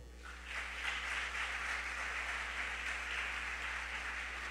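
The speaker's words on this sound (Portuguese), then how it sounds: "Dê um forte aplauso ao Senhor" A church congregation applauds during a sermon, with steady, moderately distant clapping over a low hum.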